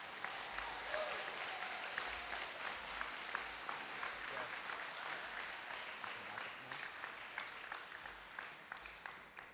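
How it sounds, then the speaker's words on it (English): A banquet crowd applauds honor graduates at a high school cum laude event, sustained clapping from many hands at moderate distance with uneven sharp claps over a steady wash, tapering slightly toward the end. "If we could give all of our honor graduates a big round of applause"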